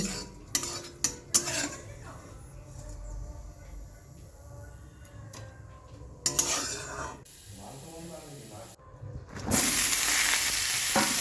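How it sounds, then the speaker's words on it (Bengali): Neem leaves fry in oil for a festive shukto, a soft sizzle running beneath clinks of a metal spatula against the pan and stirring scrapes, ending in a louder burst of hissing; no voices. "নিম পাতাটা আমি এবার তেল দিয়ে ভেজে তুলে নেব একটু বেশ লাল করে ভাজতে হবে"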